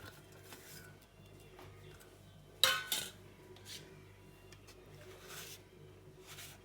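Salt and herbs are stirred into a pot for chicken curry, making soft scraping and light clinks of utensil against metal, with one sharper clatter midway, all faint and close.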